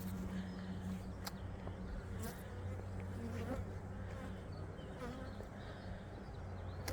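Bees buzzing steadily around hives on a spring day, a continuous droning hum close by that fills the whole stretch with no talk over it.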